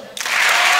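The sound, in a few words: applause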